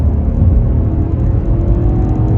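A 2020 Genesis G90 Ultimate luxury sedan accelerates on the road, heard from inside as a loud, steady low engine rumble and drone without speech.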